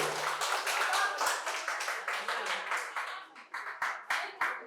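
Audience applause at a quiz competition held at Santiniketan Medical College and Hospital, a steady burst of many hands clapping that thins into scattered, separate claps toward the end.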